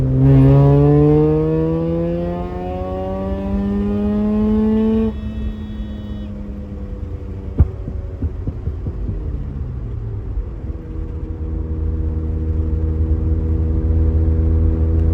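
Mazda RX-7 rotary with a Racing Beat exhaust revving from about 4,000 up to 7,000 rpm, a loud rising buzzy wail that climbs, holds, then drops to a lumpy burbling idle with a single sharp pop partway through.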